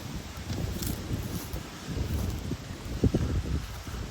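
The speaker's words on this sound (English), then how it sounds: "it started getting a little windier out here" Gusty wind buffeting the microphone beside an 1897 railroad bridge over the Wabash River, low rumbling blasts rising and falling unevenly over a few seconds with no talk.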